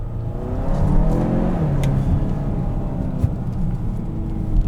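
Close cabin engine sound of a 2021 Kia Sorento SX Turbo accelerating, a steady droning pull with a quick shift of the dual-clutch transmission, loud and continuous, no voices.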